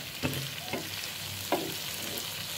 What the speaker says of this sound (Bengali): পিঠাগুলো ভাজা মচমচা হতে হতে আমি একটা ডিমই দিলাম